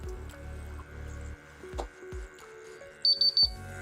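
A Watchgas Neo PID gas detector sounds its alarm, a rapid series of four sharp, high electronic beeps near the end, after quieter clicks and thumps from handling.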